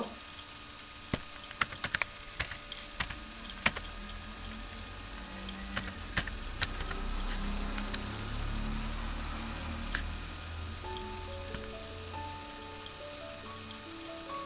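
Computer keyboard typing comes in scattered sharp clicks and short bursts of keystrokes, close by and fairly quiet, with a low background hum and a faint tonal sound later on.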